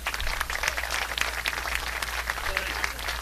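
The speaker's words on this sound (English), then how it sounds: "Please give both of these families a deserved round of applause." Spectators at a college baseball game give a round of applause, a steady patter of clapping heard over a low rumble from the open-air setting, with faint voices underneath.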